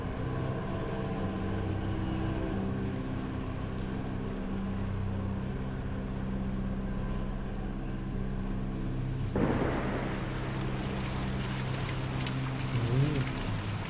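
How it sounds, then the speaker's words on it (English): Steady rain falls in the video game Kentucky Route Zero, a continuous dense patter with a low droning hum underneath, brightening into a sharper, fuller wash partway through. "Ooh, some good rain sounds."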